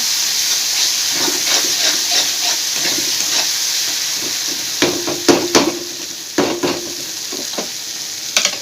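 Masala with ginger-garlic paste frying in a pan for mutton liver fry, a steady close sizzle and hiss with scattered clicks and scrapes of stirring growing busier toward the end.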